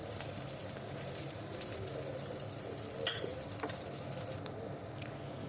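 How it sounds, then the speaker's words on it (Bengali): Pangas fish frying in hot oil for a Bengali fish curry, a steady, dense crackle and sizzle running throughout at moderate level, with a couple of brief louder pops near the middle. "এদিকে মাছগুলো আমার ভাজা হয়ে গেছে।"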